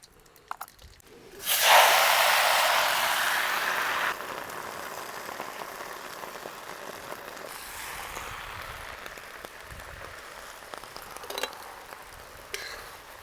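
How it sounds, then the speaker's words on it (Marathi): Cumin and mustard seeds hit hot safflower oil with a sudden loud sizzle that holds briefly, then settles into a quieter, steady crackling hiss with occasional pops. "जिऱ्या मोहरीची फोडणी लय भारी बसली"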